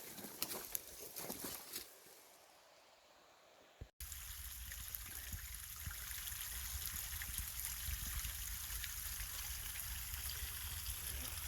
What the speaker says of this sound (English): Beautiful brook or stream, however, creates a challenge to get across.